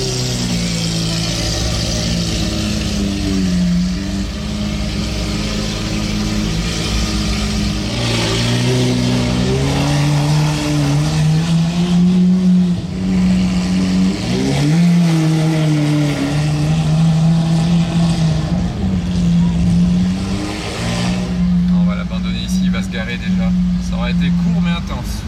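A loud supercar engine revs and roars nearby in a street setting, its pitch rising and falling through repeated throttle blips, while people talk over it throughout.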